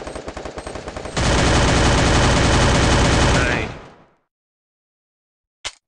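Gunfire in the video game Free Fire: a few quick separate shots, then a loud unbroken burst of automatic fire for over two seconds that fades to silence, followed by one short final crack.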